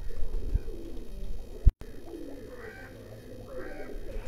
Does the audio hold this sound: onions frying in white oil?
no